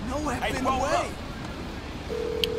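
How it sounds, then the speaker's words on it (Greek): A phone places a call in GTA V story mode: after someone speaks, a short steady electronic tone sounds on its own, followed by a faint click. "παίρνω τηλέφωνο το Λέστερο"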